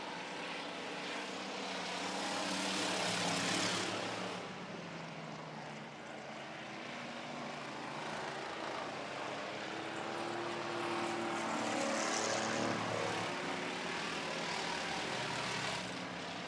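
Pure stock race cars roar around a track in a heat race, including a big Ford, with a steady engine drone that swells and fades as cars pass, fairly distant and without talk.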